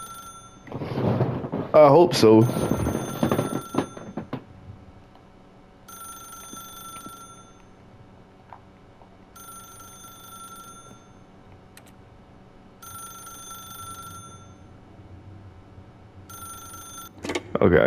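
Telephone in The Stanley Parable ringing in a repeated pattern of evenly spaced electronic rings, moderately loud, after a brief burst of talk and a sharp clatter at the start.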